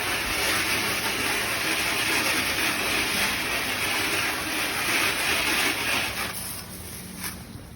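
Water from a hose sprays steadily over an aluminum pontoon boat after scrubbing, a constant close hiss and splatter that tapers off near the end.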